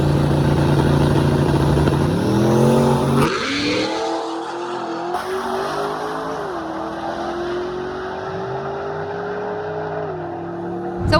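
Twin-turbo Chevrolet Nova on a drag strip, its engine loud and close with rising harmonic revs that climb through gear changes over several seconds, a steady high-powered roar throughout.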